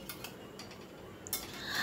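A spoon stirs ash gourd curry in a pan over a medium-high gas flame, with watery vegetables giving a few soft scrapes and clinks. It is faint, brief and close, with no talk.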